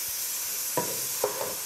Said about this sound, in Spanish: Lo vamos a sofreír más o menos por 5 minutos.